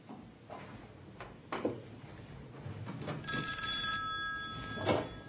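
An old-style telephone bell rings indoors, a faint metallic trill starting partway through and repeating in a steady burst, with soft room noise and small knocks beforehand.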